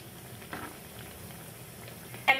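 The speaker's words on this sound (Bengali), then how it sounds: "একদম মিডিয়ামে রেখে ভেজে নেবে।" Mango-and-flour sweets fry in oil in a pan over medium heat, a soft steady bubbling sizzle throughout with a brief louder crackle near the end, fairly quiet and with no talk.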